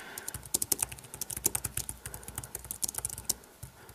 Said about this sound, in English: So let's go ahead and type